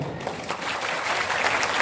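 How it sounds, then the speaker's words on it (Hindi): A crowd at an Adivasi Mahagongo gathering in Butibori bursts into brief, dense applause, a steady, fairly loud rush of clapping lasting under two seconds. "तो कम से कम तालियों की गड़गड़ाहट होना चाहिए."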